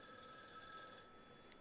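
A telephone rings in a film scene, a steady electronic ring repeating with no voices over it.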